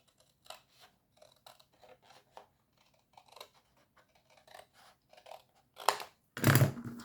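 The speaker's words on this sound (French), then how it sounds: "Ici, on coupe cette partie-là." Scissors cut out a box template from card or paper in a series of quick, close snips and crisp crunchy cuts, with a louder scrape and rustle of the material near the end.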